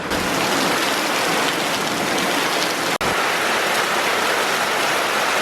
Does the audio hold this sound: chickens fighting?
no